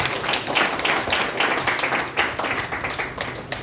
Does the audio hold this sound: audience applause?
yes